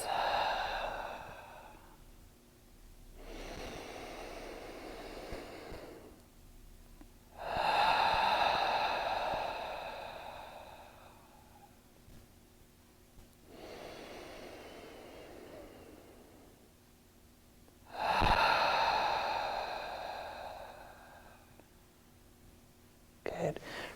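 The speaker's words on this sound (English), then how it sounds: "take 3 full big breaths" Three slow, deep breaths taken close by during a movement exercise, each a long airy inhale and exhale separated by quiet pauses, with no talking.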